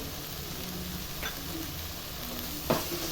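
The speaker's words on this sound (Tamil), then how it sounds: "கொஞ்சம் வதக்கலாம்." Onion and grated coconut sauté in a hot pan with a soft continuous sizzle and a couple of brief stirring scrapes.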